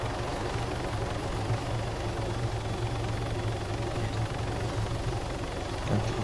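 A helicopter in the ArmA 3 video game sets down for a landing, its steady rotor and engine drone filling the whole stretch at constant loudness.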